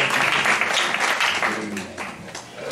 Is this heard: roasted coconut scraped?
no